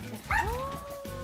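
Pet dogs in a shared indoor room of a family home bark and then let out a long rising howl, close and fairly loud, with yips mixed in.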